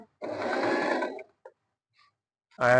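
A Singer Simple 3223 sewing machine runs in a close, loud burst of rapid needle stitching lasting about a second, followed by a couple of short clicks, a pause, and the motor starting up again at the end.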